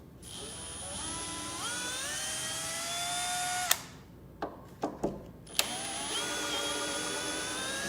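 Power driver backing screws out of a whitetail deer taxidermy mannequin: a high, rising motor whine that stops, a few sharp clicks and knocks, then the whine again, close and loud, no voices.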